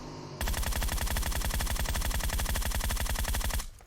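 Sustained automatic gunfire from the mobile battle royale game PUBG Mobile, a loud, rapid, even stream of shots lasting a few seconds before cutting off abruptly, with no talk over it.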